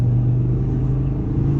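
A 2018 Audi RS3 Sportback's engine pulls hard under acceleration on an autobahn, giving a steady, loud low drone with a strong hum throughout, heard from inside the car with no talking.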